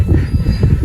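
Train rolling along rails in Peru, a loud, close, continuous low rumble with a rhythmic throbbing pulse, heard alone for under a second.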